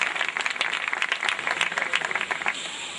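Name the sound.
loud applause for arriving legislator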